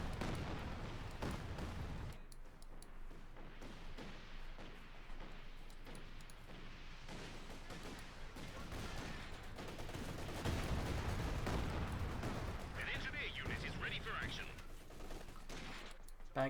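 In a Company of Heroes 2 match, distant gunfire crackles in bursts, with machine-gun rattles and heavier thumps swelling in the middle, under a caster's quiet commentary.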